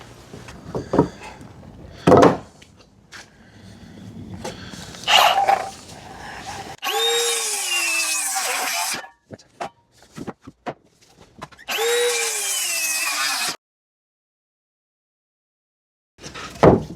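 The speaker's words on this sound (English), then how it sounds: "Need a drill as well, don't we?" A power drill runs during a garage roof build, two bursts of several seconds each with rising and falling motor pitch, loud and close, separated by knocks and thuds of work on wood.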